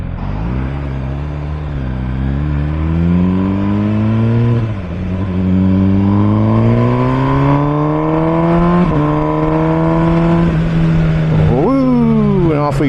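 An MV Agusta Brutale 1000 RS naked motorcycle engine revs up loudly through the gears, its rising harmonic whine climbing, dropping at each shift and climbing again, close and continuous with a steady rumble beneath.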